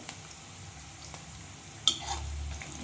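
About ten round dried chilies and a large chopped onion sauté in a home-kitchen pan with a soft, steady sizzle, broken by a few sharp clinks of a utensil stirring against the pan.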